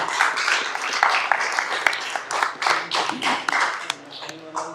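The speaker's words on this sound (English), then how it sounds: "please stand proudly and clap loudly" Audience at a council meeting claps loudly in support of volunteer departments, close, dense clapping that stays strong and then starts thinning near the end, with voices underneath.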